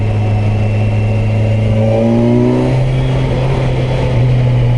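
A 2021 Kawasaki Versys 1000 SE grand tourer motorcycle accelerates through the gears with its quickshifter, its engine note climbing steadily and loud and close throughout, with no voices.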